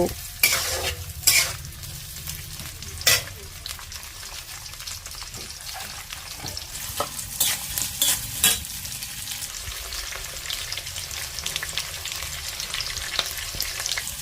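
Onion and tomato frying in mustard oil in a kadai, a steady loud sizzle with frequent spatula stirs and scrapes close by, no talk.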